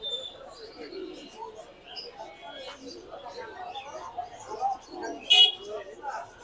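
Pigeons coo softly in a crowded pigeon market in Mirpur 1, their low burbling calls running steadily beneath nearby voices and market chatter.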